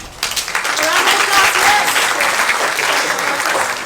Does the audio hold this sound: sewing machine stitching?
no